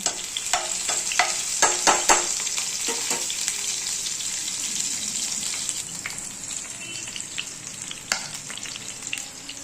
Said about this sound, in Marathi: आता इकडे तेल तापायला टाकलेलं आहे